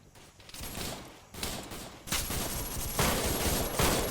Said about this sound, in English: They're just firing everywhere at this point